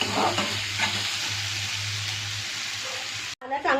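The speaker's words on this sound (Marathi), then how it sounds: "हा कांदा चांगला परतून घेऊया आपण आता" Onion sautés in a pan with a steady close hiss and sizzle and the occasional stir. It cuts off briefly near the end before a voice comes in.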